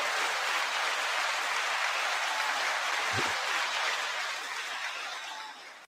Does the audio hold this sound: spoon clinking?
no